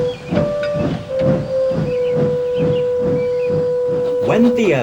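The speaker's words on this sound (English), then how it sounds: "the guard's whistle blew and Edward steamed away" Steam locomotive sounds off with a sustained steady whistle over rhythmic chuffing bursts of steam, repeated evenly about once a second, ending in a loud hissing release, close and prominent.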